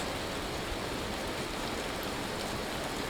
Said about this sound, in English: Man, hail is a real menace, isn't it?